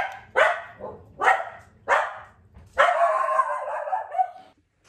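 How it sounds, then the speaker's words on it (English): A dog barks in four sharp, loud, close barks, and the last one stretches into a longer howling yelp before stopping. "I apologize for that interruption, dog barking."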